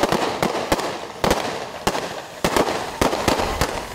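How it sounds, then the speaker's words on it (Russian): Sharp gunshots from special forces firing in turns from behind a ballistic shield during a demonstration exercise crack one after another in an uneven sequence, about nine loud reports over a few seconds, with no voices. "Для борьбы с противником применяют тактику поочередной стрельбы из-под щита."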